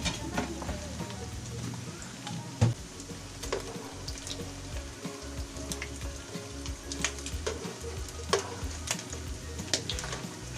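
Okoy fritters with shrimp frying in hot oil, a dense continuous crackling sizzle with scattered sharp pops throughout, close and steady.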